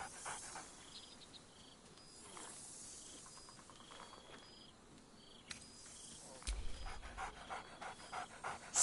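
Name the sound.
dog Scratch barking and panting, from video game Baldur's Gate 3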